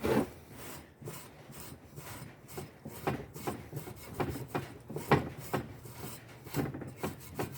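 Rhythmic abrasive scrubbing of a metal engine part from a CBR250/CRF250 301cc conversion gearbox rebuild, worked with a Scotch-Brite pad in repeated short rubbing strokes, close and moderately loud with no talk.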